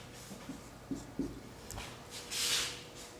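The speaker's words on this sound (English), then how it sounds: "Suppose that I write here some alphabet." Handwriting letters of the alphabet, with a few short pen or chalk strokes and taps, then a longer rubbing scratch near the end, close and fairly quiet.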